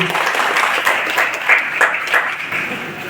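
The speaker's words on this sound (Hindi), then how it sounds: "एक बार जोरदार ताली बजाएंगे सभी।" Audience applause at a public lecture event in Manpur, a moderate patter of clapping with a few louder individual claps standing out, steady for a few seconds.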